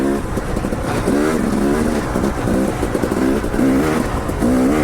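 A 250 XC two-stroke dirt bike engine runs steadily and loudly up close for the whole stretch, its buzzing note wavering as the throttle shifts, ridden off-road on a rocky climb.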